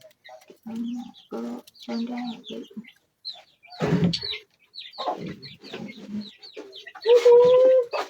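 Hens clucking in short bursts, with a sharper squawk and a longer high call near the end; close and fairly loud, no talking.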